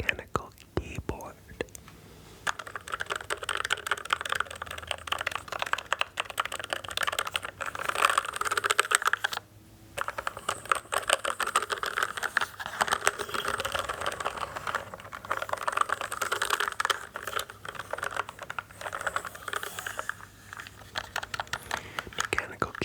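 Rapid, dense clicking of keys being typed on a mechanical keyboard, close and continuous with a brief pause, under soft whispering.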